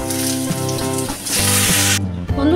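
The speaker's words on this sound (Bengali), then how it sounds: "এবার পটলগুলোকে হালকা করে ভেজে নেব।" Pointed gourd pieces frying in a wok of oil with salt and turmeric, a loud, steady close sizzle and hiss that cuts off sharply partway through before resuming.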